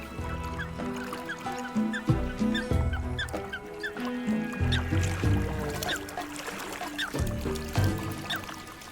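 Waterfowl call from across a frozen lake's ice field in winter, a steady run of overlapping honking and quacking notes with brief higher chirps, fairly dense and moderately loud, with no talking.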